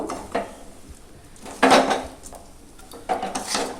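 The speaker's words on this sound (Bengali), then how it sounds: "এগুলো এইভাবে ভালো করে আমি চিড়েটাকে এরকম করে মাখিয়ে নেব।" Flattened rice being mixed with jaggery in a pot, with close scraping and rubbing strokes of a spoon against the vessel in a few separate bursts and quieter stirring between them, no talk.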